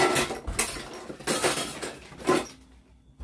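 Metal baking pans and cake decorating tools being handled, with several sharp clattering knocks and clinks in irregular bursts, close and fairly loud, fading to quiet at the end.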